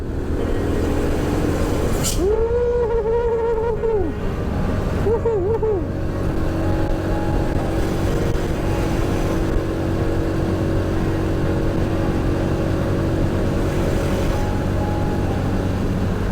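A Honda Supra X 100 motorcycle overtakes trucks on an open road, with steady loud engine and wind roar throughout and the drone of a passing truck rising and falling twice early on.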